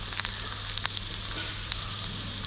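Mustard seeds, urad dal and a dried red chili crackle in hot coconut oil, a dense close sizzle broken by sharp popping spits scattered throughout, with no voices.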